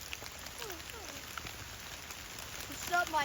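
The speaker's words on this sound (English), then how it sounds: "It is still raining." Steady rain on the Appalachian Trail north of Marion, Virginia, soaking hikers: a constant broadband hiss of falling drops, with a few brief chirps and faint voices in the background near the end.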